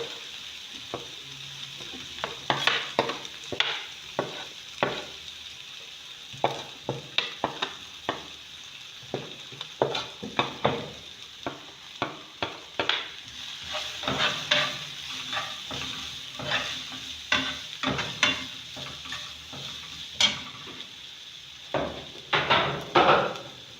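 Spices and minced meat for a meat pie sizzle and fry in a pan while being stirred, with steady scraping and clinking of the utensil throughout and no talk.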